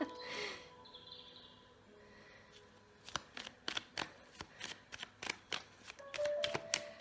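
Tarot cards being shuffled by hand, a rapid run of crisp riffling slaps and flutters in steady bursts after a softer opening rustle, close and fairly loud.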